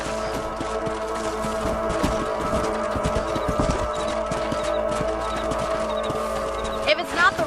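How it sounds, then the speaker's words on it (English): Horses' hooves clip-clop steadily while riding across open country in the video game Red Dead Redemption, a continuous rhythmic beat under background game sound and music, with a brief whinny-like burst near the end. "Let's get back on the horses and see what else is going on."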